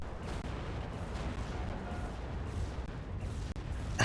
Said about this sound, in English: Let's watch the Katusha strike as it comes in onto the battlefield